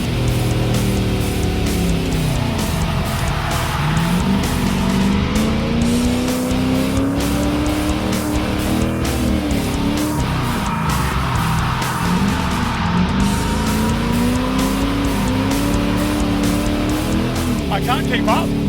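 A Ford Falcon V8 race car roars continuously at high revs, its engine pitch rising and falling as it skids around a track, loud and close throughout.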